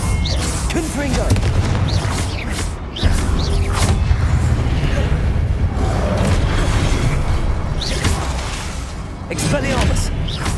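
A Confringo blasting spell explodes in a Hogwarts Legacy battle, heavy booms and thuds piling up over a loud, dense game mix while a voice shouts spell names.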